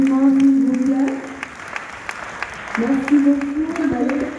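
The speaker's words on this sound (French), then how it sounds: "Tous vos applaudissements, s'il vous plaît." Audience applause fills the room after a French address, with steady broadband clapping and a sustained voice or tone running under it before the clapping dips midway and then swells again.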